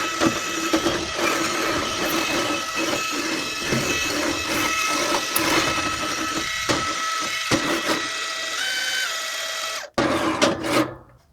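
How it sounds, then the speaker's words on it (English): Automatic electric grill brush scrubbing the grates of a propane grill, a continuous whirring motor with rattling, scraping bristles up close, briefly stopping then restarting before cutting off. "here we are with this automatic grill brush on my propane grill"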